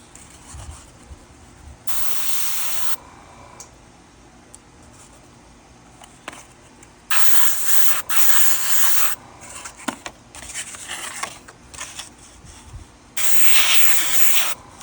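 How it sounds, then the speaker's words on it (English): An airbrush sprays paint over car emblems backed with bare metal foil, giving three separate hissing bursts of about one to two seconds each, close and steady, with quiet gaps and small handling noises between them. "Just gonna airbrush it like normal"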